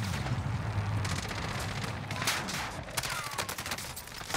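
Rapid bursts of video game gunfire in Call of Duty: Warzone crackle in quick clusters, mid-distance, with sharp cracks scattered throughout and a faint tone near the end.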